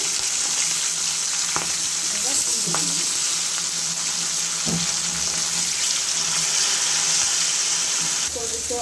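Fish frying in a pan sizzles in a continuous, hissing crackle, with occasional clinks and scrapes of stirring, close by and steady throughout.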